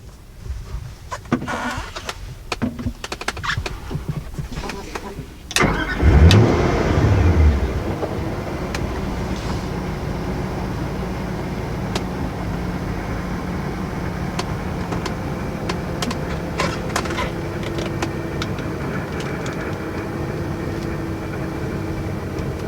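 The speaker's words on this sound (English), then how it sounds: "Listen to that engine." Clicks and faint rustling, then a 2005 Ford GT engine cranks via start button and roars to life before settling into a steady idle rumble.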